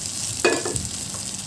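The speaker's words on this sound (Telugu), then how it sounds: "ఇప్పుడు మనం ఫ్రై చేసుకున్న ఈ కొబ్బరి తురుము తీసుకొని మనము ఈ మటన్లోకి వేసేద్దామండి." Fried grated coconut is tipped into mutton frying in a pan and stirred, a soft steady oil sizzle with a brief scraping stir, close and without talk.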